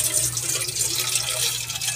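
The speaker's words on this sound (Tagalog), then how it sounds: "lalagyan na natin ng tubig" Water from a tap runs and splashes into a cooking pot being filled for ramen, a close, steady gurgling stream with no talking.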